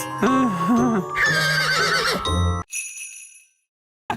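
A cartoon unicorn lets out a loud, high whinnying neigh with a wavering pitch, joined by bright magical tinkling, then a shorter neigh before a quiet sparkle and near silence.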